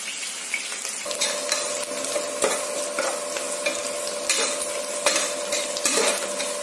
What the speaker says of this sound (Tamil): கொஞ்சம் நல்லா ஃப்ரை ஆகுங்க